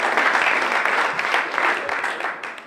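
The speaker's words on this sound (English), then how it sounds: "round of applause for Heidi" A luncheon audience gives a round of applause for a guest speaker, with steady dense clapping filling the room throughout.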